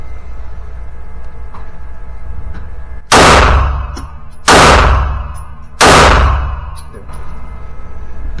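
Three loud, sharp pistol shots from a Canik METE SFT at an indoor range, evenly spaced about a second and a half apart over a low steady background hum.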